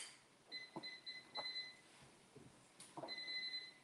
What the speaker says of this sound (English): I'm gonna set my timer for exactly 6 minutes.